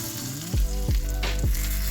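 French toast stuffed with strawberry cheesecake sizzles loudly in a hot pan, close up, with a few soft thumps as the slices are flipped.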